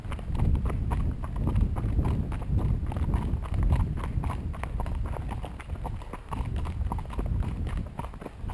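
A horse walks along the Mill Creek trail, its hooves clip-clopping in a steady, even rhythm, close and fairly loud against faint outdoor background, with no talk.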